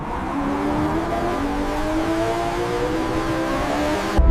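Ferrari F80 supercar engine accelerating hard out of a bend, a loud sustained rising roar with layered harmonics, close, ending in a brief abrupt thump.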